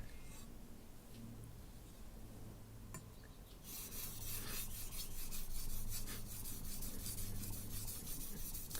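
A chef knife is sharpened on a whetstone with repeated rhythmic rasping strokes of steel on stone, close and fairly quiet, growing brighter and grittier partway through.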